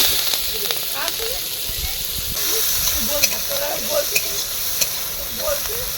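Onion hitting hot oil with bay leaves, cloves, cinnamon and dried red chili in a pan for a potol-shrimp curry, a steady loud sizzle and hiss with scattered stirring clinks throughout, close by.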